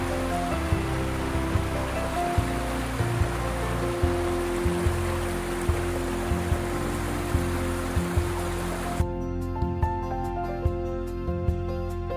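A cute little waterfall pours in a steady, moderate rush of splashing water, with faint irregular ticking, before the sound cuts away abruptly near the end.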